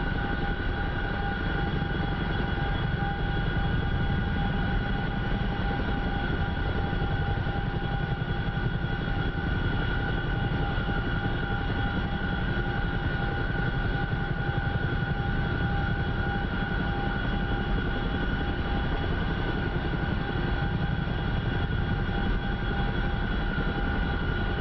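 A Boeing CH-47F Chinook helicopter flies in the DCS flight simulator, its rotor and engine noise a loud, constant droning roar that runs unbroken throughout with no talk.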